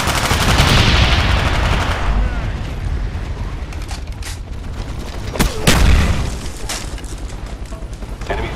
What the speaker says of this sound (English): Enemy napalm strike inbound.